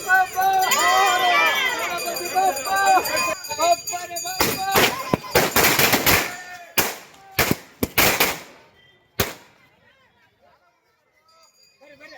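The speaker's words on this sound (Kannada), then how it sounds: "ಸಾಕಷ್ಟು ಸದ್ದು, ಗದ್ದಲ ಹಾಗೂ ಪಟಾಕಿ ಸೌಂಡಿನೊಂದಿಗೆ ವಿನಾಯಕ ಮನೆ ಸೇರ್ತಿದ್ದಾನೆ" Crowd noise and voices during a Ganesh festival procession, then a rapid burst of loud, sharp firecracker bangs, several in quick succession before fading to quiet.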